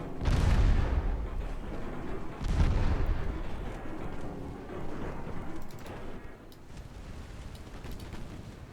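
Naval shells fire and strike in a World War II strategy video game set in the Mediterranean, sounding as deep, rumbling booms, two heavy blasts followed by a string of fainter thuds and rolling explosions.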